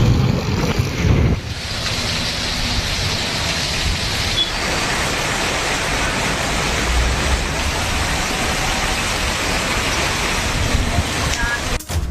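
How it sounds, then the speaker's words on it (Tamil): Strong gusty wind with heavy rain during a storm in Chennai, a steady dense roar of wind and downpour that persists throughout, loud and close, with no voices. "சூறாவளி காற்றுடன் கூடிய கனமழை கொட்டி தீர்த்தது"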